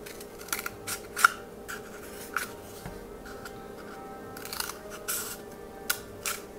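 Scissors snip through cardboard toilet paper roll pieces, cutting them in half with a series of short, sharp crisp cuts spaced irregularly, close and fairly quiet.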